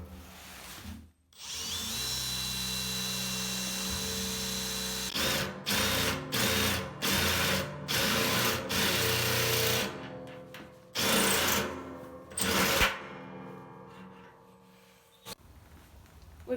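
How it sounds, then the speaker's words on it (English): Hole saw on a power drill cutting holes through the sheet-metal body of a garden incinerator, a sustained grinding whine followed by choppy on-off bursts and brief pauses, close and loud. "We're going to use a hole saw."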